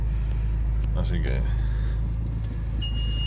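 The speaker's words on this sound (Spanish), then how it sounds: "Mira, justo está pasando un coche por detrás." A car passes behind on a street near a garage, a steady low rumble that rises and fades under a man's speech.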